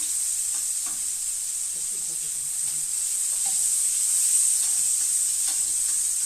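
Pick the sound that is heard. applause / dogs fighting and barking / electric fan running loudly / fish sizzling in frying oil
fish sizzling in frying oil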